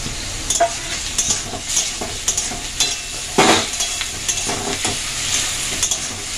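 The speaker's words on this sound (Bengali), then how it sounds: "এবার এই পেঁয়াজের ওপরেই আমি চিংড়ি মাছটা দিয়ে দেব, দিয়ে ভেজে নেব।" Prawns frying on a bed of onions in a pan sizzle steadily while a spatula scrapes and stirs in repeated strokes, close and clear, with no talking.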